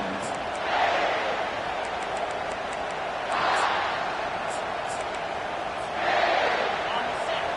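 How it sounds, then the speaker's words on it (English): Stadium crowd roaring in a football video game, a broad continuous wash of cheering that swells in three waves over the play-by-play commentary. "The roar of the crowd trying to fuel this defense to keep them pinned in their own end."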